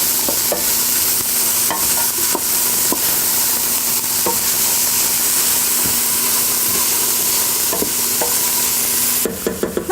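Chopped vegetables for a soup sizzle and crackle steadily in a hot pot as they are stirred, with occasional scraping knocks of the spoon against the pot and a clatter near the end.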